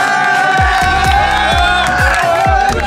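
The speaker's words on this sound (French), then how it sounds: "on peut applaudir du coup votre performance" Supporters at a youth football tournament in Paris cheer and shout loudly for the winning team, a dense, steady crowd roar punctuated by rhythmic low thumps about every half second throughout.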